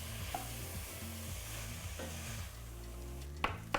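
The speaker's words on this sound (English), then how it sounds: "you wanna get those carrots and those leeks to really soften up" Leeks and carrots sautéing in a pan, a soft close sizzle under repeated scraping stirs, a few sharper knocks of the utensil toward the end, fairly quiet with no voices.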